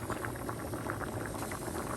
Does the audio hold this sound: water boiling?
yes